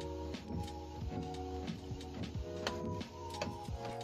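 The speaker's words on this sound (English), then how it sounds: "I'm gonna go hit print. And then you're gonna go ahead and just print it out." A printer running off a sticker sheet, with close mechanical whirring, rhythmic ticks and motor tones repeating in short cycles.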